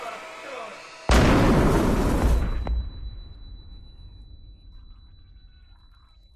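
A bomb blast from the 2013 action film Hotel Inferno hits at once as a loud, sudden broadband boom, roaring for over a second before a sharp crack and a long fading rumble into quiet.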